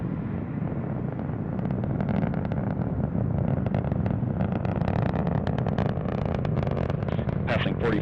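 Steady, broadband roar of an Atlas V rocket's RD-180 engine during launch, continuous and powerful with crackling texture, while a commentator speaks over it.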